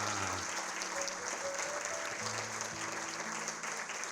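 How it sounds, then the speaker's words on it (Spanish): Audience applause for guests at a Chilean documentary film screening, dense continuous clapping from a full room throughout, steady and moderately loud, with a faint voice briefly under it. "yo creo que todavía puede ser mucho más fuerte el aplauso"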